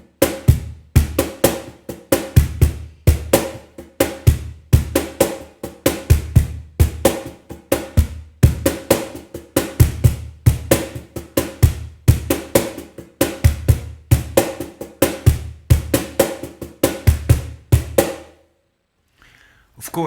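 A cajon plays a samba pattern, repeated over and over in a steady, driving rhythm of deep bass thumps and sharp slaps for about eighteen seconds, close and loud, before it stops.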